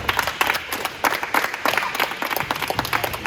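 Audience of children clapping for a visiting Fresno State coach, a lively, uneven patter of many hands close by, sustained throughout with a few faint voices underneath.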